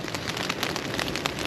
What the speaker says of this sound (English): as you can hear, it started raining again now